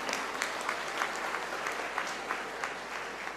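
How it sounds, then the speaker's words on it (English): Parents at the Dr. Ulhas Patil Medical College convocation clap for their graduating sons and daughters, a fairly soft, even patter of many hands in a large hall, continuous throughout. "I ask every parent to clap for their son and daughter who are becoming doctor today."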